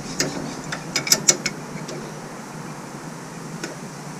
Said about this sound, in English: So, we'll take this nut off.